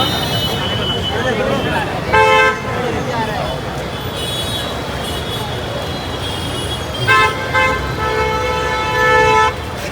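Busy street traffic in Mumbai during a Ganpati arrival procession, with car horns tooting in bursts around 2 and 7–9 seconds over a steady roadway rumble, people talking nearby.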